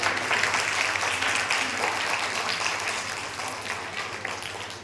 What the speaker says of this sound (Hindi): तो एक बार हमारी मदर टीचर्स के लिए भी जोरदार तालियां।